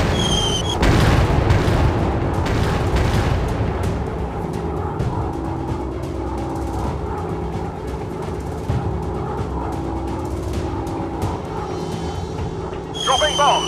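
Bomb explosions in the flight combat game RAF High Command, a heavy continuous rumble of booming blasts and engine drone, with a sharp burst at the start and voices shouting over the din.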